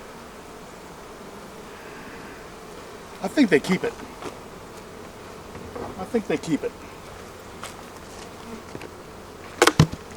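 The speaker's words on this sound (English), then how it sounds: "There's a lot of bees in here." Dense, steady buzzing of many honey bees at an open hive during fall preparation, with a few louder bursts as bees fly close past; a person speaks briefly.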